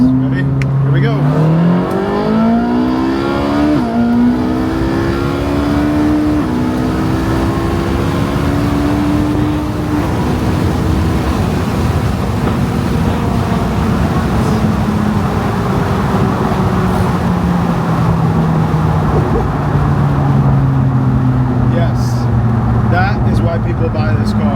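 A Ferrari with an aftermarket exhaust accelerates hard with its windows open, a loud close engine roar climbing through the gears with pitch drops at each shift and a long sustained pull, with talk mixed underneath.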